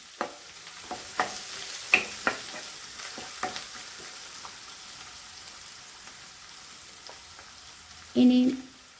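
Cabbage thoran with green chillies, dried red chillies and curry leaves being stirred in a pan, with soft scraping and light sizzling through the clip and a louder burst of clattering near the end.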